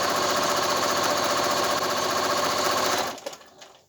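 A sewing machine zigzag-stitches through quilt fabric with a rapid, even mechanical chatter that runs steadily, then stops abruptly near the end, leaving a few faint clicks.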